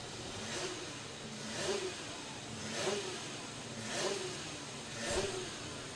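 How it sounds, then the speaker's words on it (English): A superkart engine revs hard at the Nutts Corner kart circuit during the Irish Kart Grand Prix, with five rising bursts about a second apart over a steady loud, nearby engine drone, no talk. "whoever is standing behind Ross Witherow's car while he is revving it"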